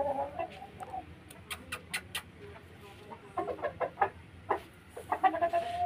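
A tall Punjabi Aseel rooster clucks in a string of short, separate calls of varying loudness over faint background noise, nearby but not loud.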